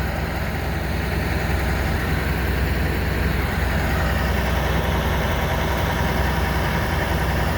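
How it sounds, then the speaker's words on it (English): A skid steer's diesel engine idles close by in a steady, loud, even rumble that holds unchanged throughout, with no voices. "So skid steer's on its way down the hill"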